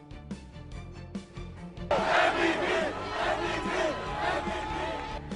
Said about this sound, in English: The crowd goes wild over the Buffalo Bills win